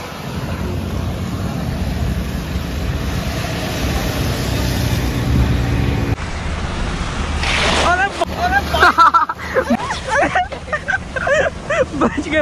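Fat bike ploughing off-road through a deep water-filled pit, with sustained sloshing and wind-like rushing noise that gives way to splashy bursts, followed by someone talking.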